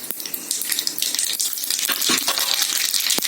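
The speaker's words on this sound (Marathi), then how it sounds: "तेल चांगले गरम झाले की याच्यामध्ये मी 1 चमचा मोहरी टाकत आहे।" A spoonful of mustard seeds hits hot oil for a sambar tempering, giving a continuous close hiss dotted with sharp crackling pops that carry on steadily without talk.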